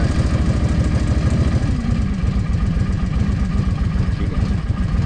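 A restored Suzuki Volusia VL800 motorcycle engine idles steadily close by, a continuous low throbbing putter with no voices.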